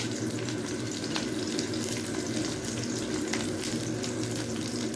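Onion is dropped into hot oil while meat is being cooked, and a steady, moderately loud sizzle and crackle carries on evenly without any speech.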